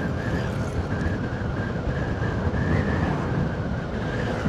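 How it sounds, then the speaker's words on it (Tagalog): Strong wind buffets a wireless microphone outdoors at a farm in Tagaytay, a steady loud rumbling roar that fills the whole stretch with no speech. "So medyo malakas yung hangin."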